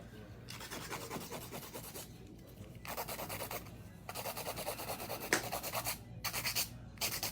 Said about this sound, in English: I recommend using the drill bit first